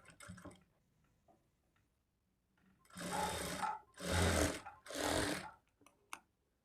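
Sewing machine stitching a lined blouse, running in three loud bursts of about a second each after a short quiet stretch, with faint handling sounds of fabric at the start.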